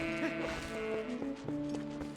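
Goats bleat repeatedly in the video game Zelda: Twilight Princess, a series of short, wavering tonal cries close up, each a quick bleat in steady succession.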